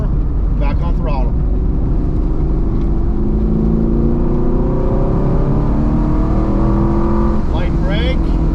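A BMR-equipped 6th gen Camaro accelerating on a road course, its loud engine droning steadily and rising in pitch through the lap, heard from inside the car with a voice talking over it.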